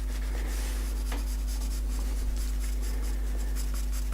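Pencil sketching on paper while drawing an eye: steady soft scratchy strokes with firm pressure for shading, close and continuous over a low background hum.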